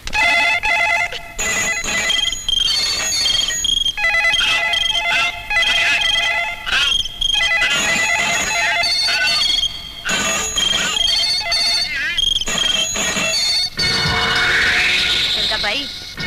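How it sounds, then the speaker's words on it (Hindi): Telephone bells ring loudly and continuously, several phones jangling over one another without pause for the whole stretch. "अभी तो सिर्फ टेलीफोन की घंटियों से ही तेरी घंटी बज गई है"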